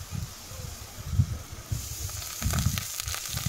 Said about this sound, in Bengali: তো পেঁয়াজগুলো আমি লাল লাল করে ভেজে নিয়েছি